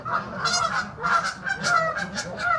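Several geese honk repeatedly at a pond, a close chorus of overlapping calls in an uneven rhythm with no talking.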